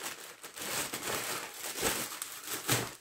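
A plastic parcel bag holding a Casio watch crinkles and rustles in close, irregular bursts as it is handled during unpacking, fairly quiet and with no voices.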